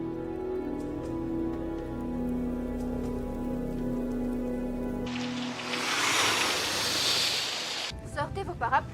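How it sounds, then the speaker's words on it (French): Heavy rain comes in suddenly after a stretch of music, a dense, loud hiss of falling drops that ends abruptly. "aujourd'hui comme hier, les précipitations sont abondantes"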